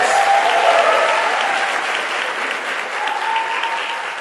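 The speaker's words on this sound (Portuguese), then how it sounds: "Vamos aplaudir de novo, porque ela merece." Audience applause fills a live talk or presentation event, steady and sustained throughout, loud and dense with no speech over it.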